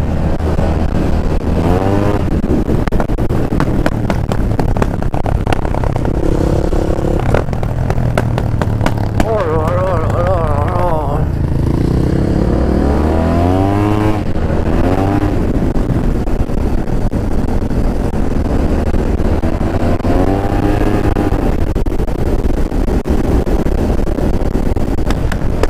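A scooter engine with a broken clutch revs and warbles in rising and falling sweeps, loud and close, while people talk over it.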